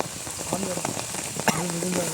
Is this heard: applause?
no